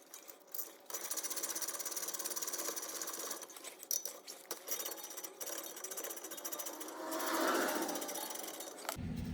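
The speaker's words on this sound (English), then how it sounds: "So we're going to stick our socket in there and break them free." A socket wrench breaks loose the 7mm Allen hex slide pin bolts on a Lincoln MKC/MKZ brake caliper, giving a rapid mechanical ratcheting buzz that runs for several seconds, then one louder grinding surge near the end.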